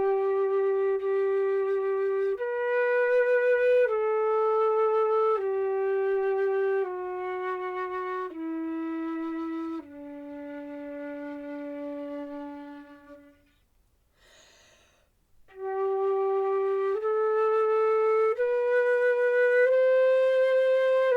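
A flute plays slow sustained phrases, each clean note held steadily and the last held longer before a short breath. A second phrase then follows, with no talking over the playing.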